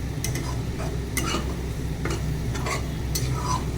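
A spatula stirs dry fish in a hot pan, scraping with repeated short strokes over a steady sizzle of frying.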